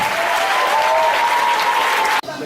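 A church congregation bursts into steady, loud applause that fills the room, broken only by a brief tone above the clapping, then ends abruptly.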